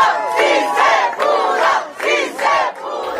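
Fast food workers and labor leaders crowd around and cheer loudly, a close, sustained wave of whoops and shouts rising and falling in several bursts, with no clear speech.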